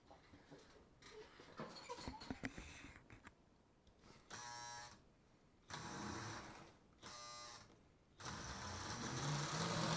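A reconditioned postwar Lionel 027 gauge MKT switcher train set runs on a 75-watt transformer, giving a whirring, buzzing motor hum that surges in bursts and ends in a steady louder run, close and mechanical, with some clicks and clatter and no speech.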